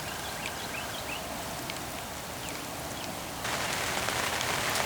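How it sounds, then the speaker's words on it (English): Steady rain patters on surrounding cover during a rainy-day turkey hunt, a dense, constant hiss that swells louder in the final second, with a few faint bird chirps above it and no talking. "I'm going to get out of here, this rain."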